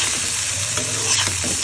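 New potatoes, finely chopped, fry with Malabar spinach (pui shak) flowers in a hot pan, giving a steady close sizzle with light stirring scrapes throughout.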